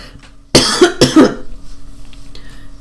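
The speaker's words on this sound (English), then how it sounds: "I'm going to cough again." Two sharp, loud coughs in quick succession up close, followed by quiet breathing and faint room noise.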